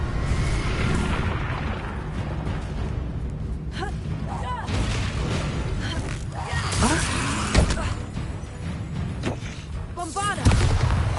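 Bombarda spell blasts in the Hogwarts Legacy video game, repeated booming impacts over a dense rumble of combat noise, with a voice shouting in the mix.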